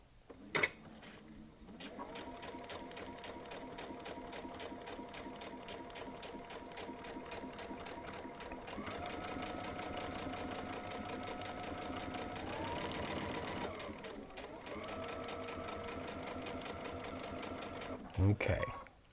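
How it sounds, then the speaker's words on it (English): A Baby Lock sewing machine stitches leather with a Teflon foot in a steady, rapid mechanical whir, rising slightly in pitch midway, with brief clicks at the start and end. "I'm going to do another set of stitches right beside it using the Teflon foot"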